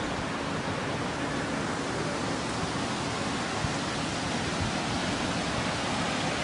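Waterfall in Finlay Park pouring in a steady, loud broadband rush of falling water, continuous and unchanging with no voices.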